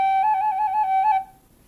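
A tin whistle plays a rapid trill in the style of Irish traditional ornamentation, one sustained, fluttering note alternating quickly for about a second before cutting off cleanly. It is close and clear, with no talk.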